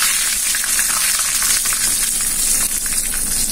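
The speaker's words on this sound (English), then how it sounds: "Now my pan as well as the oil is heated. Now we will add the mustard. Now the red chilies. Now the curry leaves." Mustard seeds, red chilies and curry leaves crackle and sizzle in hot coconut oil in a pan, a steady loud frying hiss with constant fine spattering and no talk.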